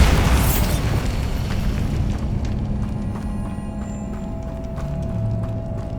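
A Bombarda blast spell from the video game Hogwarts Legacy goes off with one loud, close boom at the start, then settles into a low rumbling tail and soft background noise.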